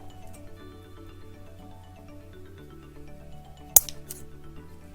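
Scissors make a single crisp snip while trimming material for a pan-tilt frame assembly, one sharp close cut standing out against a faint steady hum.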